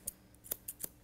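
Scissors snip hair at the bottom of a Labradoodle's leg during a schnauzer-style grooming trim, with three or four quick, close, crisp cuts in rapid succession.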